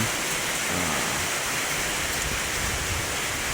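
Heavy rain falls in a dense, steady roar during a thunderstorm, loud and unbroken throughout with no voices.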